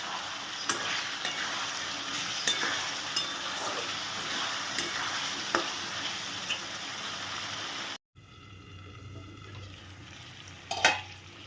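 Spice paste and softened potatoes fry and sizzle in oil while being stirred, a steady loud crackle with scraping strokes for about eight seconds, then a quieter low simmer with a brief clink near the end.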